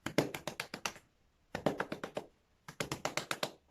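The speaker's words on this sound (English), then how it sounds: "I clap" Hands clapping through gel-coated long 2a wavy hair while diffusing with a Gama Italy diffuser, three bursts of rapid, close, sharp claps, about six to eight each, separated by short pauses.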